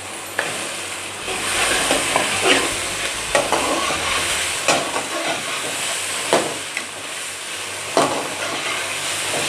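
Meat hits a hot pan of oil for biryani and fries with a loud, steady steamy sizzle, punctuated by regular stirring scrapes and clanks, close up.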